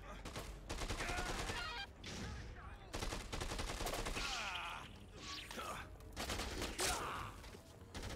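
Gunfire in the zombie video game Dead Rising 2, with dense bursts of shots and explosive thumps layered over chaotic game noise and a voice that keeps talking throughout.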